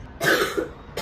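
A single harsh cough, close and loud, with a short follow-up burst at the end, from someone who has caught a cold after travelling; no talk alongside.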